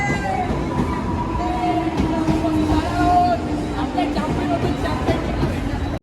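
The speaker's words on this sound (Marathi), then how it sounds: "तर आपली ट्रेन पण आलेली आहे मित्रांनो" A train bound for Mumbai rumbles steadily at a busy platform, with crowd babble and faint voices in the background throughout.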